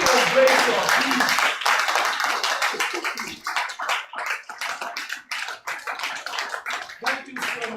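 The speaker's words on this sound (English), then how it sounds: "I want you to give him that round of applause. Give a standing ovation, please." An audience at an entrepreneurship event claps in a standing ovation, loud and close, with dense irregular claps that thin out toward the end.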